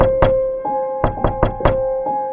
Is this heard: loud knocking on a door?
yes